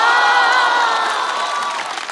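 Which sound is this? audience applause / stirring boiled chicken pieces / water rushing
audience applause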